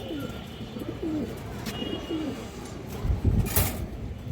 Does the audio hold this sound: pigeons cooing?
yes